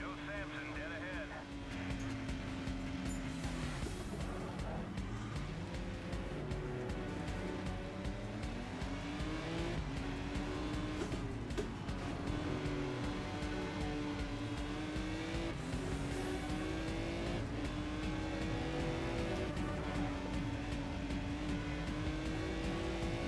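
A race car in the PC racing game GRiD drives at speed for the whole stretch, its engine droning and rising and falling through gear changes, with a voice talking over it now and then.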